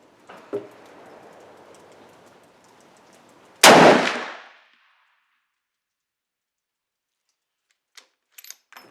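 A Mossberg Patriot rifle chambered in .450 Bushmaster fires a single loud, sharp shot of reloaded ammunition outdoors, with a brief decaying echo, followed by quiet and a few faint clicks.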